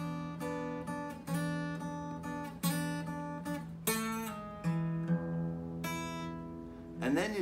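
Plucked acoustic guitar notes ring out, a low A bass note followed by a high A on the first string, repeated several times in a quiet, close pattern.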